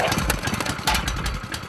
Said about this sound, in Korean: 자, 엔진 시동 거세요.